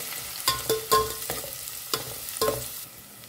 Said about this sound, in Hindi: और अब प्याज को ना 1-2 मिनट के लिए अच्छे से भून लेते हैं